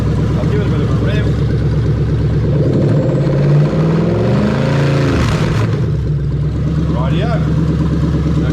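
Toyota 1UZ-FE V8 (1989-1997) rises in a steady rev around the middle of the clip, then settles back to a loud, even idle; a voice is also present alongside the engine.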